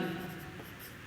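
Writing on a board during a physics lecture on electric charge makes a brief, close scratching stroke lasting about a second, with no voices.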